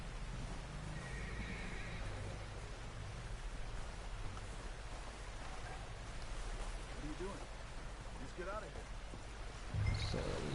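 Horse in the video game Red Dead Redemption 2: a whinny and clip-clopping hooves over soft rain-like ambient noise, with a louder thump near the end.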